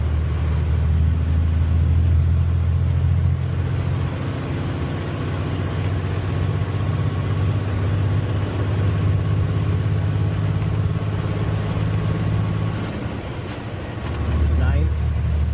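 A Paystar 5600 TS truck in the SnowRunner game chugs along in high gear, its low engine rumble droning steadily and easing briefly near the end, with someone talking over it throughout.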